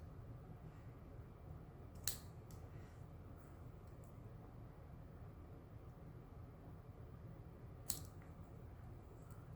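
Scissors snip twice at the corners of a paper tag, two sharp crisp cuts several seconds apart over a quiet background hiss.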